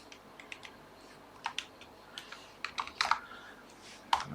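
Typing on a computer keyboard: quiet, close, irregular clusters of crisp key clicks with short pauses between bursts, in a calm room.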